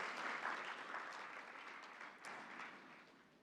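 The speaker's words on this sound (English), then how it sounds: "Can we give them a round of applause?" An audience at a closing ceremony applauds the panel, a steady, fairly distant wash of clapping that slowly tapers, with no talk over it.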